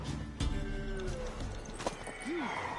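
Horse hooves and a horse's whinny in The Witcher 3 video game, with a brief clatter of steps amid busy ambient game sound and a short rising-falling vocal call near the end, moderately loud.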